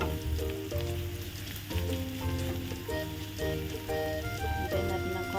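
Garlic frying in oil for Filipino squid adobo, a soft continuous crackle and sizzle running beneath background music with a steady melodic beat.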